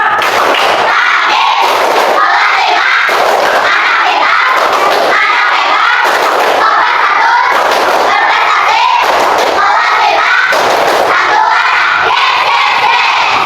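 A fifth-grade class performs a rhythmic clapping chant, loud and close, with bursts of group claps and shouted voices repeating in a steady beat throughout.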